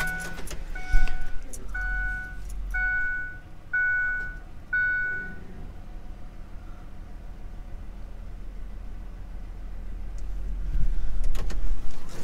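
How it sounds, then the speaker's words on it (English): A pickup truck idles with a low engine rumble while backing up, repeated electronic beeping chimes in the first half, then steady engine drone with a door or rustle near the end. "I need to back my pickup up just a little bit more"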